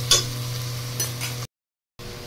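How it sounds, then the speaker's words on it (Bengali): Onion and tomato frying in white cooking oil, giving a steady low sizzle with a few brief stirring scrapes, moderately close, then breaking off for a moment of silence before resuming. "সাদা তেলে এই যে পেঁয়াজ টমেটো ভাজতে দিয়েছি"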